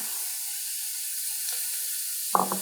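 Chopped fresh parsley hitting a hot pot, a steady loud sizzle and hiss that runs throughout, with a short clatter near the end.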